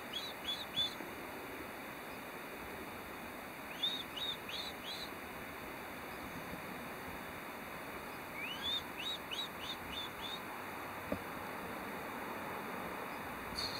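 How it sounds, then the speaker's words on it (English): A small chickadee calls outdoors, several short high chirps in brief bursts separated by long gaps, faint and distant over steady wind noise. "Seeing a little chickadee of some sort."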